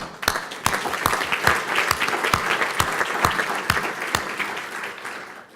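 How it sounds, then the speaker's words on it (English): Audience applause at a scientific symposium, close and steady, with a few sharp claps standing out above the crowd at a regular beat. "Another round of applause."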